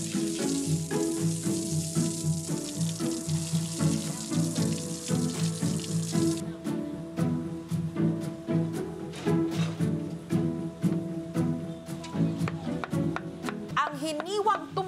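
Water being poured into a pot for Filipino tumbong tripe soup, a steady rushing splash for several seconds that gives way to a softer bubbling, cooking backdrop with faint clinks.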